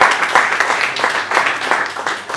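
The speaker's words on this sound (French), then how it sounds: "je sais que vous allez encore l'applaudir" Enthusiastic applause from an audience, many hands clapping steadily and fairly close, with no speech over it.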